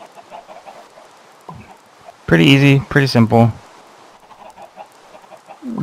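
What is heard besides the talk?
chickens clucking in Minecraft video game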